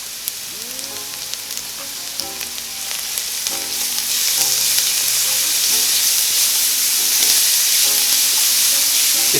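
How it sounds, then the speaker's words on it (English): Garlic, a tablespoon of it, sizzles in a pan over onions that have been sweated for a basic tomato sauce, with a steady hiss that grows louder partway through, punctuated by scraping stirs and clinks. "Once you sweat your onions, I'm putting tablespoon of garlic"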